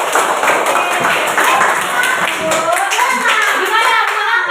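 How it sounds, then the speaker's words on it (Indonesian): A classroom of fourth-grade schoolchildren bursts into steady, dense applause for prize winners, many small hands clapping continuously and close, with scattered young voices mixed in. "Kita kasih aplaus untuk dapat hadiah."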